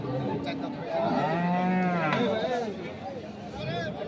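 Large beef bulls and cattle at Kaharol livestock market in Dinajpur district, a long low moo rising and falling close by, then a shorter one, over crowd chatter and talk.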